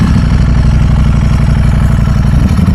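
A Ducati V4 SP2 motorcycle engine idling with its dry clutch, a loud, close, steady low rumble with a fast regular pulsing beat and a rattling clatter over it.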